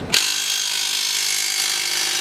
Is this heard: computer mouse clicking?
no